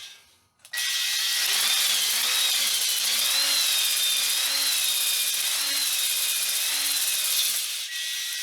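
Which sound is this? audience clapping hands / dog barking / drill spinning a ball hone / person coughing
drill spinning a ball hone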